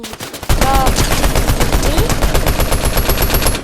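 Rapid automatic gunfire in a shooter game bursts in loud and close after a brief quiet moment, then keeps up a fast, even rattle of shots to the end.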